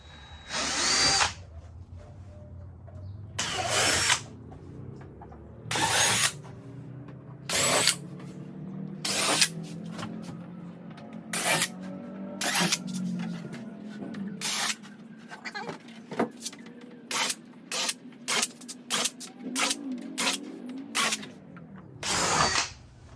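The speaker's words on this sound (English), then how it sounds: "Your next bit is going to be the 7/32. You're just going to go back right through the holes again." A power drill runs a 7/32 bit back through spoiler mounting holes for a Krotov duckbill spoiler, in about a dozen short bursts of whining rotation separated by brief pauses, close and fairly loud.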